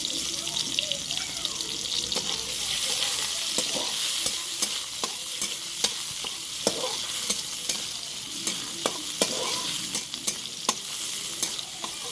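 Egg tadka mixture sizzles steadily as it fries in a pan, with a spoon or spatula scraping and stirring in repeated clicks over the constant hiss.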